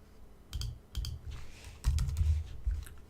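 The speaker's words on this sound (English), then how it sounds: "Type email and hit enter." Close, crisp clicks of someone typing on a computer keyboard, arriving in short bursts of a few keystrokes separated by brief pauses, with a firmer final keypress.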